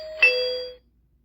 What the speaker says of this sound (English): when you turn the house off and then back on, you know when the house is on because it makes the doorbell sound